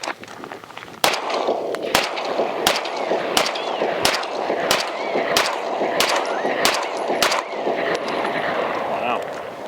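Staccato XL pistol fired at a shooting range, about ten sharp loud shots in a steady, evenly spaced string over constant background noise.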